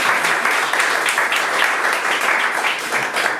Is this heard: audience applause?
yes